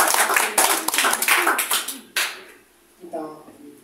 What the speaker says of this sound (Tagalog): Sige, palakpak ko natin yan sa Panginoon.